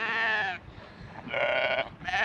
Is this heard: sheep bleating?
yes